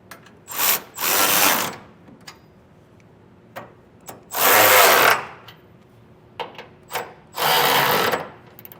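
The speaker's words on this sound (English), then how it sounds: "Now we'll get these tightened down with a 3/4 inch socket." A power tool with a 3/4 inch socket driving frame mount tie-down bolts on a 2001 Ford F-350, four loud whirring bursts of about a second each separated by pauses with small clicks, close by.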